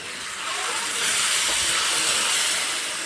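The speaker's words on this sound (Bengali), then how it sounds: "টমেটো কেচাপটা দিয়ে একটু নাড়াচাড়া করে ভেজে নেবো" Tomato ketchup frying in a pan for pasta, a loud, steady broadband hiss of steam and sizzle that swells slightly after the first second and holds, close up.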